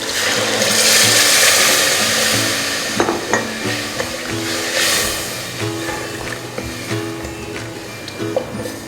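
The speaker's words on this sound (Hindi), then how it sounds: "अब मैं इसके अंदर ये पानी डाल दूंगी" Wet hissing sizzle as water is poured into frying masala for beef qorma, swelling loudly at first, then settling into a steady bubbling simmer with occasional clinks of a utensil against the pan.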